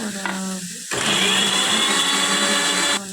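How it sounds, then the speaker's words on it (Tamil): Mixer grinder blending tomato for a potato kurma gravy, a loud whirring motor roar that kicks in after a short pause and runs steadily for about two seconds before cutting off. "ஒரு தக்காளியை வந்துட்டு நான் வந்து இப்போ அரைச்சி ஆட் பண்ணிக்க போகிறேன்"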